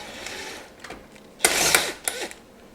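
A tight bolt comes out on a 2000 Ford Super Duty during a flatbed install: a few close metallic ratcheting bursts and clicks, with the loudest run in the middle, against quiet shop background.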